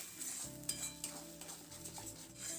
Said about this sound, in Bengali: মিডিয়াম ফ্লেমে এটাকে অনবরত নাড়াচাড়া করে শুকিয়ে নিতে হবে